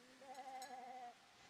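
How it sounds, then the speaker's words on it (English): A single goat bleat, a drawn-out wavering cry lasting about a second, sounds faintly over a quiet background in a scene of searching through found belongings. "Is there a goat nearby?"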